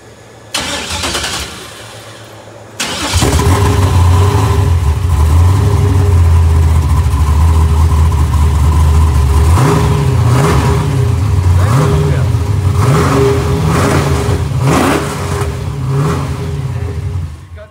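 A race car engine fires up after a brief burst, then idles loud and rough with several sharp revs rising and falling, running steadily close by with no talk over it.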